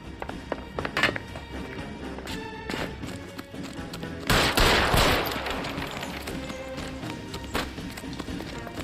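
Gunfire in an L.A. Noire shootout, a series of sharp shots over a busy background, with one heavy louder blast midway and fainter cracks trailing after, no talk.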